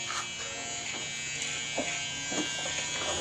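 An electric fan runs with a steady close-range buzzing hum, constant and motor-like, with faint household background noise and no clear talk.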